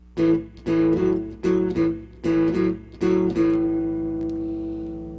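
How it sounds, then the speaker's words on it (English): Electric guitar playing two-string, bassy blues shuffle chords in a 12-bar pattern, a series of short, punchy strummed hits in a steady rhythm with the last chord left to ring and fade, close and alone. "This song uses 2-string, very bassy sounding chords."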